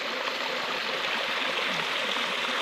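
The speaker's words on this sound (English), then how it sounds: "pretty waterfall" A waterfall at Ferne Clyffe State Park rushes in a steady, dense broadband roar, close and constant with no voices.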